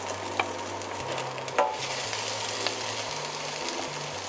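Garlic and onion sautéing in butter give a soft, steady sizzle with a few light utensil taps, heard alone under a low persistent hum.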